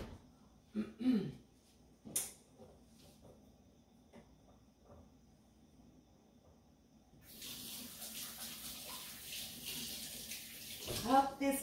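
Water from a kitchen tap runs into a sink bowl as hands are washed, a steady broadband hiss that starts partway through and ends abruptly, with some faint clatter before it.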